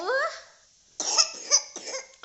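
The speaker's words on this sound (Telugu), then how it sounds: "దగ్గు వస్తుంది నాకు" A woman coughs several times in quick succession at close range, short harsh bursts following a brief moment of her speaking.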